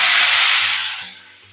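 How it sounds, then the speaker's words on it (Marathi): Brinjal pieces hit hot oil seasoned with mustard seeds and cumin, and a sharp, close hiss of sizzling bursts out loudly before fading away over about a second and a half. "वांगी तेलात परतून घेऊ."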